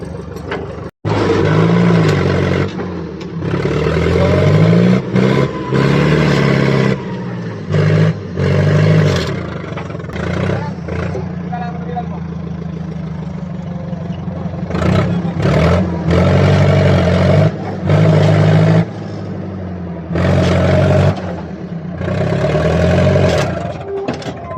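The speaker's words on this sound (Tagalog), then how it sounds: "Pinaplastar pa namin yung mismong forklift mga kaibigan." A forklift engine revs hard in repeated bursts while the machine is positioned, loud and close, rising and falling between roaring pushes and lower idling stretches.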